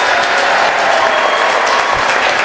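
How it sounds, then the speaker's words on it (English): An audience claps at a school award ceremony for Ali Public School and Ali PU College in Tumkur, a loud, continuous roar of many hands sustained throughout with no speech over it. "Let's keep clapping. Let's keep clapping."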